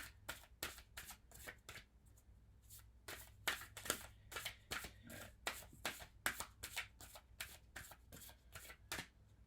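A deck of moon oracle cards is shuffled by hand in quick riffling bursts, close up and fairly quiet, repeating in an irregular rhythm with short pauses between.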